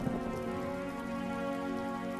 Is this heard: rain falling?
yes